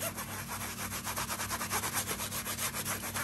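A comb is rubbed with powder on tissue paper, producing a rapid, even back-and-forth scrubbing rasp, close and continuous, with no talk.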